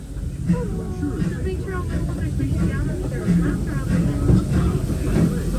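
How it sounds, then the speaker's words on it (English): A Disneyland Railroad train rumbles along the tracks with a steady rhythmic clatter while an announcer speaks over a loudspeaker and people chatter nearby. "welcome aboard the Disneyland Railroad"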